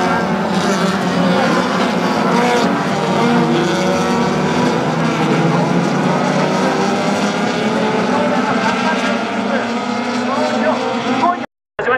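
WTCC touring race cars roar off the start at the 2015 Japan round, a dense, loud wall of engine noise with rising revs throughout, a commentator talking over it, cutting out briefly near the end.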